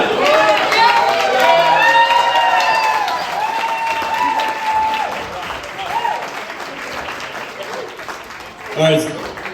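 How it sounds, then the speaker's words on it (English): Wedding guests applaud after a toast, a loud sustained patter of clapping from a crowd with cheers and whoops rising over it, fading slightly before a final burst near the end. "All right, another round of applause for Big Russ."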